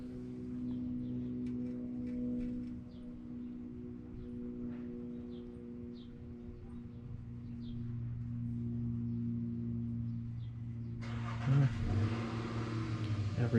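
A Honda pressure washer engine runs steadily with a strong low hum and harmonic drone, its note shifting partway through, then a burst of brighter, louder noise near the end.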